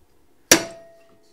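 One sharp, close metal tap knocks a part into alignment during a rope tow rebuild, then rings out briefly with a fading tone before silence returns.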